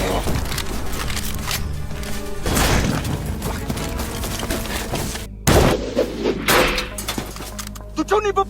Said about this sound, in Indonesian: sembari menghabisi anggota Flat satu persatu yang dibantu dengan beberapa tembakan jitu dari Nelson.